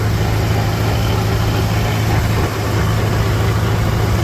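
An old Farmall H tractor engine idles steadily nearby, a low, constant chugging rumble with no voices over it.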